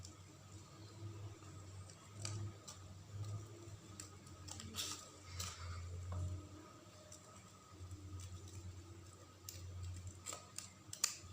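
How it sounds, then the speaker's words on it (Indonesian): Scissors snip through paper at a children's craft session, a series of faint, crisp cuts at irregular intervals, close but quiet against a low room hum. "Kita gunting saja."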